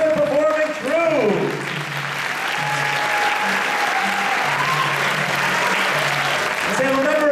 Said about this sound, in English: let's join in expressing our thanks with a warm round of applause